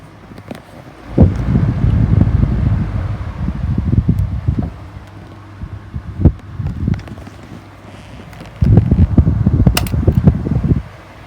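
A 16-inch Super deluxe desk fan from the 1990s whirs with a soft, weak airflow, its low hum swelling and fading in uneven gusts, close and steady with no voices.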